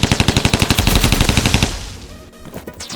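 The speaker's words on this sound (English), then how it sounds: "Let's get him nice and weak with the paintball gun." Rapid bursts of paintball gun fire in the Roblox Rivals shooter game, a fast rhythmic string of loud shots for about a second and a half, then fading into quieter game ambience.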